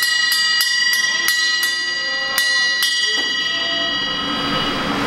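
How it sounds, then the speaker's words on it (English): Service bell at an Arby's restaurant rung repeatedly, about eight bright metallic dings in quick, slightly uneven succession, each leaving a shimmering ring that lingers and fades, with faint background room noise. "Every Arby's has a bell that says ring for good service"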